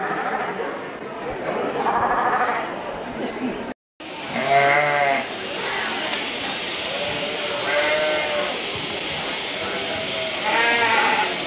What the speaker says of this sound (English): So, Mia, did you pet the sheep?